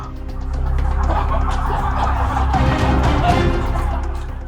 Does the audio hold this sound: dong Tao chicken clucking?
yes